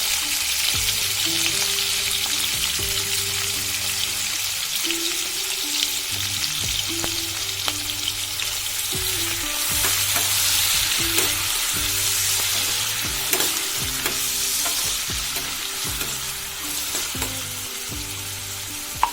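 Curry leaves and a small onion sizzle steadily in hot oil for a Marathi colocasia-leaf curry, a continuous close frying hiss with occasional soft clinks of stirring.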